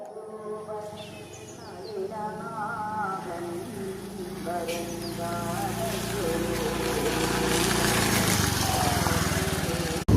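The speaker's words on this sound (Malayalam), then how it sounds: "അപ്പോൾ അമ്മ സ്കൂട്ടി എടുത്തുകൊണ്ട് വരുന്നുണ്ട്." A scooter engine runs with a steady droning hum that grows slightly louder toward the end, with a voice talking over it.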